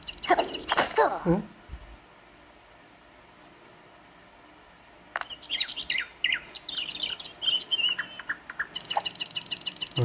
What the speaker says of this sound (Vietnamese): Ở đây có tiếng chim hót nữa.